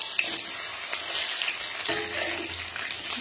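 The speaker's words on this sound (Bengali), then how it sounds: "মিডিয়ামে রাখলে ভাজাটাও মুচমুচে হয়" Pumpkin leaf fritters (kumro patar bora) frying in oil over medium heat, a continuous crackling sizzle with occasional sharper pops and a brief stirring clatter midway, close and fairly quiet.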